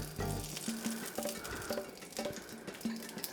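Tomatillos and serrano peppers blister in a hot pan, giving a steady close sizzle and crackle with faint scrapes of stirring throughout, and no voices.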